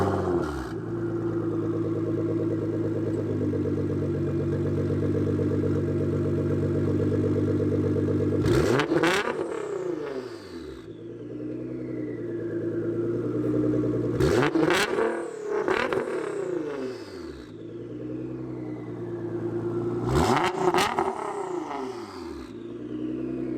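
A tuned Nissan GTR with a Boost Logic titanium exhaust and 4-inch quad tips holds a loud, droning high-rpm note, then snaps through three sharp revs that flare up and fall away, with no talking.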